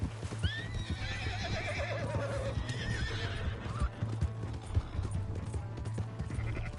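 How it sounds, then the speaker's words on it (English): A horse whinnies loudly in Red Dead Redemption 2 while hooves clip-clop steadily underneath, with scuffling and other game sounds in the background. "Hey, that's my horse!"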